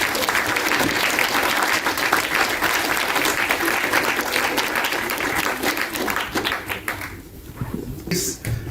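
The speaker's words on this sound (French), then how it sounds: "on peut les applaudir." Audience applause at a contract signing ceremony between CANAL+ University and CAF, dense sustained clapping that fills the room and then thins out and tapers near the end.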